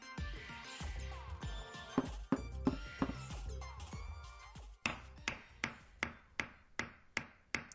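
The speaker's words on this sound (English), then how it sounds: "What's that sound? Some kind of hammering?" Hammering on wood in a video game, a busy mix of knocks followed by a regular series of sharp, ringing blows, moderately loud with no voices.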